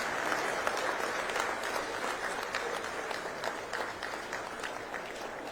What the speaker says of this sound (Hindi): जोर से ताली बजाइए, तालियां बजती रहनी चाहिए।